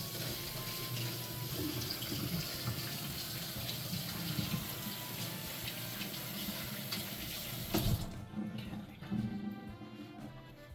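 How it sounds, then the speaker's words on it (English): Hands are rinsed under a running kitchen tap, a steady rush of water for most of the time before the flow cuts off, leaving a few faint drips and clatters. "Now rinse off my hands."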